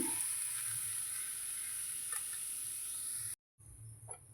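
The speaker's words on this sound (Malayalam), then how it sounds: "നമുക്ക് അരിഞ്ഞ് വെച്ചിരിക്കുന്ന കോളിഫ്ലവർ ചേർത്ത് കൊടുക്കാം" Chopped cauliflower goes into a pan of sizzling spice masala, giving a steady close hiss and frying crackle that stops briefly, then resumes with light stirring scrapes.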